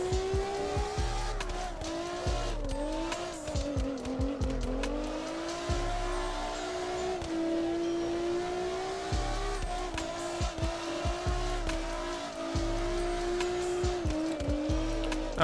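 Car engine revving and tires squealing as a car drifts in the CarX Drift Racing video game, a steady loud drone with rising and falling engine pitch and repeated skid bursts across the whole stretch.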